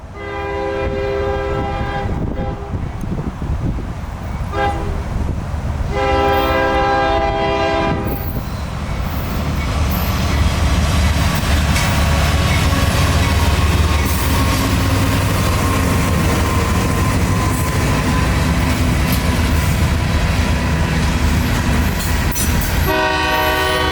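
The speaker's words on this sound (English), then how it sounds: "L700 is returning to Tampa now with loaded Tropicana reefers as well as miscellaneous freight" A CSX freight train led by a rebuilt SD70 locomotive sounds its horn in repeated long blasts, loud and near, over the steady rumble and clatter of passing freight cars and reefers.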